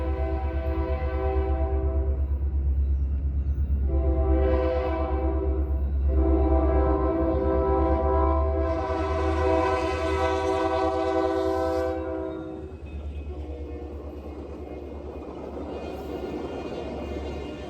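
An Indiana Rail Road northbound special train passes, with several long, loud blasts of a multi-tone horn over a steady low rumble of locomotive and rolling cars that fades slightly at the end.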